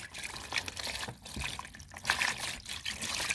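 Coolant is poured with a soft, faint trickling and gurgling that comes in uneven pulses over a few seconds.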